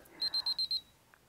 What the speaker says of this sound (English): then your alarm goes off